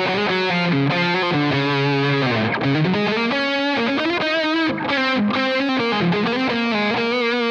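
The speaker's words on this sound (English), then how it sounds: "let's go to the highest gain channel." High-gain electric guitar on the hottest channel of a Mesa Boogie Triple Rectifier amp model, loud and continuous, with sliding riffs and bent melodic lines riding a thick saturated tone.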